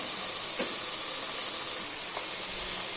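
Onions with salt sauté in a pan, giving a steady, even sizzling hiss throughout with a couple of faint stirring scrapes. No voices are heard.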